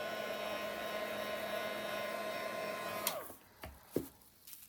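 A heat gun blows steadily over resin artwork to clear drips, a constant whooshing hum that cuts off after about three seconds, followed by a few faint knocks and taps.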